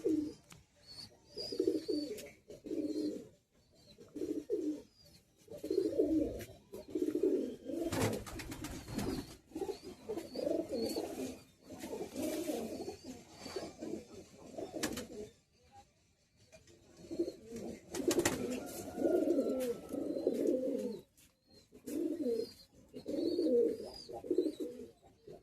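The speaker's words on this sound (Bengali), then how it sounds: "দেখুন বন্ধুরা পায়রা দুটো।" Two young Teddy pigeons cooing close by, repeated low throaty coo phrases in rhythmic bursts with short pauses and faint background chirps, no talking.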